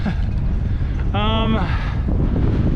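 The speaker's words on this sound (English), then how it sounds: "Speaking of which, I'm hitting a lot of winds." Strong wind buffets an outdoor microphone near Palmetto State Park in a steady, loud rumble lasting throughout, with a brief tonal whine in the middle and a voice speaking underneath.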